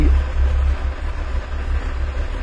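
A car engine with a faulty EGR valve idles roughly, its low rumble close and steady but wavering as the idle speed shifts and sags over a couple of seconds, with no one talking.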